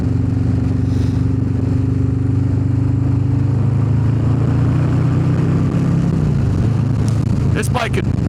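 A Harley-Davidson Low Rider S motorcycle cruises a highway near Raleigh, NC, its engine droning steadily under loud wind rush, with a rider talking over it.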